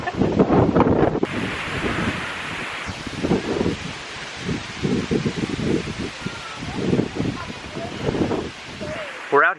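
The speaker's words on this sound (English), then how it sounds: "It's a nice windy day" Gusty wind buffets an outdoor site where a crew is working on a bridge, a steady broadband roar rising and falling in loud, uneven waves, with muffled voices mixed under it.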